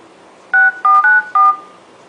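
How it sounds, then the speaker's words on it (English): Four short touch-tone beeps from the dialer keypad of an Asus Zenfone 5 phone, pressed one after another with brief gaps, loud and close in a quiet room. "Let's check the dialer."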